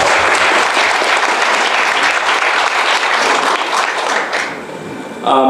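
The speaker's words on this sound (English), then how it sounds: "give yourself a round of applause." Loud, dense applause from a large audience at a business presentation, sustained for several seconds before tapering off, then briefly swelling again.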